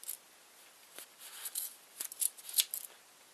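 Scissors snip through a bundle of yarn loops while a pom pom is made, giving a string of short, crisp cuts that grow quicker and louder toward the end.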